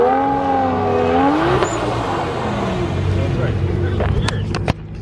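A car engine revs and roars continuously as Adam LZ spins donuts, with tire noise and shifting pitch, while people talk loudly over it.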